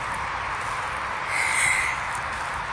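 Birds call outdoors in a natural setting, with one brief, high, thin call rising over a steady background hiss midway through. The call is moderately clear, and no one speaks.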